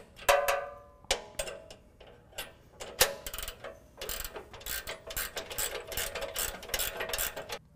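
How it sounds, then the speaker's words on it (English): A bolt being tightened with a ratchet wrench on a Havoc Gen 2 Aftershock rear bumper with hinged tire carrier, a few sharp clanks, then bursts of quick, close ratcheting clicks. "And we'll tighten up this one."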